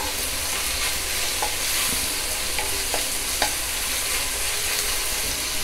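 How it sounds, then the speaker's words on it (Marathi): Chopped onion and tomato fry in a pan over a high flame for a paneer mushroom masala, giving a steady, close sizzle broken by a few sharp spoon clicks and scrapes. "आधी कांदा चांगला परतून घ्यायचा, मग टोमॅटो टाकायचा"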